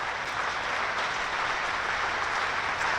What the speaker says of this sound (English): And listen to this crowd, they appreciate that.